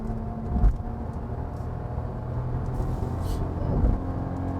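Hyundai Casper small car with a 76 hp naturally aspirated engine pulling at full throttle with four adults aboard, a steady muffled engine drone heard from inside the cabin, moderately loud and continuous.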